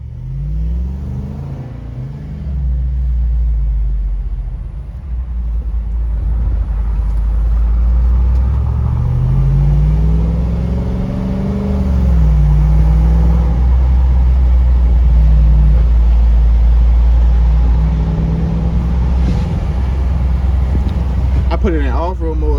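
Jeep Wrangler 392 V8 rumbles deep and steady as it pulls away and cruises, engine drone rising with acceleration under wind noise while people talk inside the cabin.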